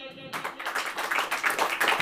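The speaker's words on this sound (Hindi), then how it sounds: "तो ताली बजाइए" A church congregation breaks into dense, continuous clapping during a Hindi-language sermon, a crowd of hands beating together with a brief quiet moment just before it starts.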